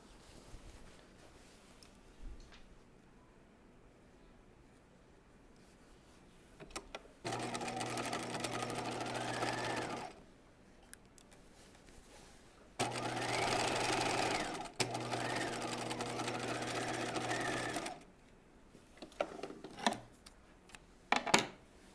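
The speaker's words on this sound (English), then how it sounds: "we're going to stitch this at 5/8" A home sewing machine stitches a 5/8-inch center back seam on a raglan top in two sustained runs of about three and five seconds, each a steady close hum separated by quiet handling sounds.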